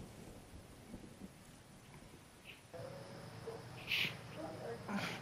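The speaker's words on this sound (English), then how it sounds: "And the storm's coming in." A storm rolling in during a Fortnite match: faint rain hiss with a low rumble of thunder building toward the end, heard quietly in the background.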